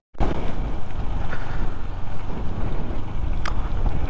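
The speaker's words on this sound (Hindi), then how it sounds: "बहुत बहुत ही ज़्यादा तेज़ हवा चल रही है" Strong wind roars steadily across the microphone on a road in Nepal, a loud continuous rumble with gusty fluctuations and no voices.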